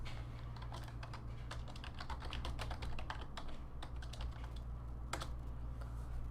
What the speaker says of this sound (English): So let me type it in chat.